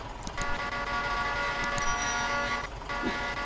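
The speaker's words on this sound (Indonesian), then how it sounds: "Oh, klakson dulu" A Mitsubishi Canter dump truck in Euro Truck Simulator 2, hauling at the Adaro mine, sounds a loud sustained horn blast that holds steady for several seconds over the engine rumble.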